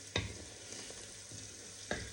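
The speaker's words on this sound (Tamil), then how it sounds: "முக்கால் பருவத்துக்கு இந்த வெங்காயம் வதங்கிடுச்சு" Onions sautéing in a pan for coconut milk rice, a quiet steady sizzle with a few soft scraping stirs of a spoon against the pan, no talk.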